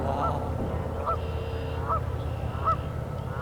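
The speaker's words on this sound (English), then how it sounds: "The geese are moving." Geese honk repeatedly at a steady pace during a solar eclipse, four calls spaced about a second apart over a low continuous background rumble.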